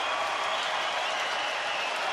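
Ballpark crowd at a Tampa Bay at Texas baseball game cheering and applauding as the announcer fires them up, a steady wash of claps and roar that stays loud and even throughout.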